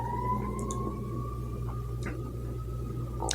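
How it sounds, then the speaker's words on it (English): A faint siren wails in the distance over steady low background rumble, its tone holding fairly level through the whole stretch. "and there's a siren."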